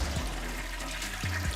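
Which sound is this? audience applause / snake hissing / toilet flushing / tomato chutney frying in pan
toilet flushing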